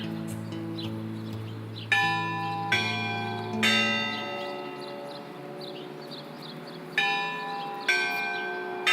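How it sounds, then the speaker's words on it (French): Church bells in Irkutsk ring out in a Sunday peal, several large bells struck in overlapping strokes every second or so, loud and resonant with long ringing decays layered over one another. "Le plus impressionnant, c'est cette symphonie de cloches qui a lieu tous les dimanches."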